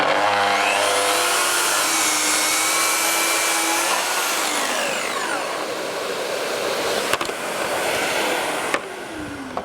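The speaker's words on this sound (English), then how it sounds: "so now we can put the saw onto the material and we can switch on, and now we can make the cut." Festool HK85 EB Plus circular saw running on a guide rail and cutting through material: a loud, steady motor whine that drops in pitch as the blade bites, then continues as a broad roar with a few brief clicks near the end.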